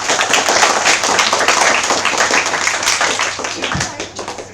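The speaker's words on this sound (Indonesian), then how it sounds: "Berikan aplaus dulu yang meriah." An audience at a Pertamina employees' fast-breaking gathering claps and applauds, a dense close burst that holds steady and then tapers off, with a voice heard over it.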